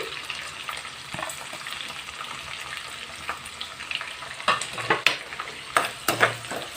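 Curry leaves, green chillies and onions frying in a pan for fish curry, a close crackling sizzle with stirring scrapes that grow louder and more clattery toward the end, with no voices.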